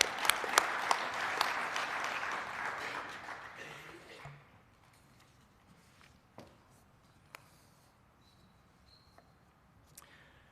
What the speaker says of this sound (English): We'll give them a round of applause anyway.